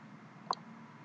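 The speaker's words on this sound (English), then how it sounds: "double click" Two quick, close clicks of a computer mouse button, sharp and isolated over a steady low hum, as a file is opened during setup of an SSIS data package.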